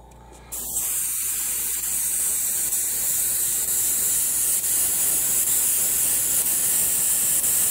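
An airbrush sprays AK gloss varnish with a loose nozzle, giving a steady, close, loud hiss after a brief quieter start, with slight fluctuations as the flow falters.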